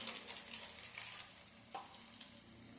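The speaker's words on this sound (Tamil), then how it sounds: "சேர்த்திட்டு இந்த எண்ணெயிலே வதக்கி ஸ்டவ்வை சிம்மில் வச்சு எண்ணெயிலே வதக்கி விட்டுலாம்." Spices and garam masala sauté in oil in a pan on a stove over low flame, giving a steady close sizzle with brief stirring scrapes throughout and no voices.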